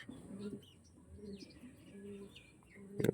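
Male pigeon of a high-quality tournament breed calling in a few low, repeated coos, close and moderately loud, with faint chirps and rustling in the background and a louder burst at the end.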